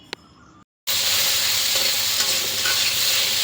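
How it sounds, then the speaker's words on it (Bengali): Taro pieces (kochu) frying in hot oil, a loud, steady dense sizzle that starts abruptly after a brief quiet gap and continues without pause. "এরপরে আবার কিছুটা তেল দিয়ে এই গাঠি কচুগুলো ভেজে নেব।"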